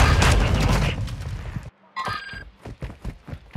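Rapid submachine-gun fire from a Lachmann Sub in Call of Duty Modern Warfare 2 rattles loud and dense for over a second, cuts off abruptly, then gives way to a string of spaced, punchy thuds and shots.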